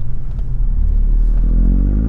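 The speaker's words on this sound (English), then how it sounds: "at the moment I'm just sort of cruising, car still warming up" A Mk8 Ford Fiesta ST with a 20mm Eibach lowering drop cruises while still warming up, its steady low engine rumble filling the cabin and swelling slightly louder toward the end, with no one talking.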